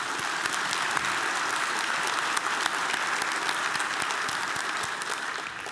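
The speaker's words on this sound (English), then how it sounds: "If you would please join me in a round of applause for these wonderful folks." Audience applause at an Energy Summit 2022 event, a steady wash of many hands clapping with sharper individual claps standing out, at moderate level and holding throughout without fading much.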